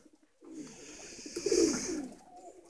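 A pigeon coos nearby, a soft low throaty call swelling and fading, after a few faint taps at the start, on a Sunday morning as pigeons are let out.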